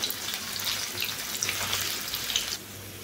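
Green plantain pieces fry in hot oil with a steady, bright sizzle and crackle, close and even throughout, with no talking.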